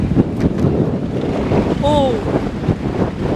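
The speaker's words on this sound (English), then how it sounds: "There's heaps of wind." Strong gusts buffet an outdoor microphone on a windy day, a loud, rumbling, low roar that runs the whole time, with a brief exclaiming voice and a faint whistling tone partway through.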